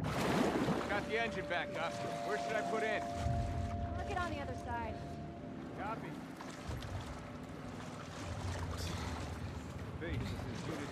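Boat engine from The Last of Us Part II drones steadily on the water, a low continuous rumble with lapping water, running under frequent talk throughout.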